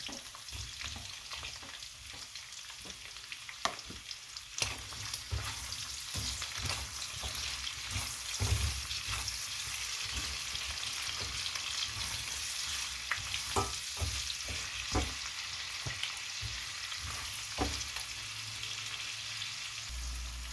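Chopped onion sizzles steadily in a pan with boiled beef, a continuous close frying crackle with occasional stirring knocks, and no talking.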